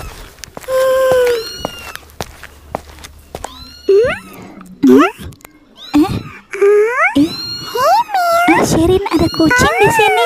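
A cat meows repeatedly in rising and falling cries, loud and close, while children and adults talk around it.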